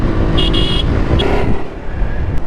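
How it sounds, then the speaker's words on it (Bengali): Dense city traffic in a jam rumbles continuously, with several short car horn toots cutting through, close and loud, and no talking. "এই যানজট এই কোলাহল এই ইট পাথরের নগর"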